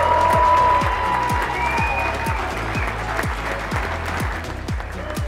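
A round of applause rises from guests at a hail-and-farewell event honoring a doctor, a steady crowd clapping under a repeating low thumping beat of background music.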